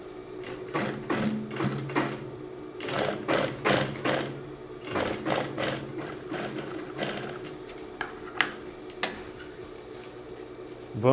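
A sewing machine stitches across the bottom of a fabric bag in close, loud bursts of rapid mechanical clatter. Runs start and stop with short pauses between them, a brief backstitch, then a few sparse clicks at the end.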